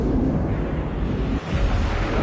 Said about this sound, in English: That's the sound of the universe collapsing in on itself.